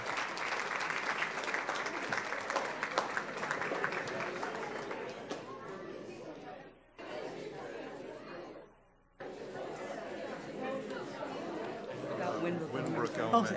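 Audience at a school board meeting claps for elementary schools, broad sustained applause with chatter, briefly dropping off twice before resuming.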